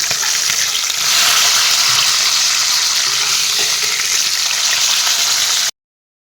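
Pieces of fish fry in hot oil in a pan, giving a loud, continuous close sizzle with faint stirring, then the sound cuts off abruptly.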